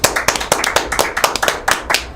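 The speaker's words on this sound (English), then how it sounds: "I'm clapping for myself, okay?" One person claps hands for themself in a steady, quick rhythm of about ten sharp claps, loud and close, with no voices over them.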